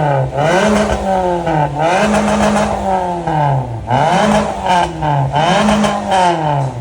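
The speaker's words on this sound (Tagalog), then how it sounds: "Tunog sports car." A loud car engine revs hard, climbing and dropping in pitch twice with a throaty, crackling sports exhaust, very close and continuous.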